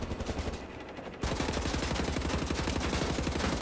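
Rapid automatic gunfire in Wolfenstein The New Order: a dense, steady stream of shots that grows louder after the first second and keeps up without a break.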